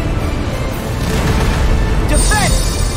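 Cannons fire in Kingdom Hearts III, giving deep booms over a constant rumbling game soundscape, with a quick whooshing effect near the end and voices present.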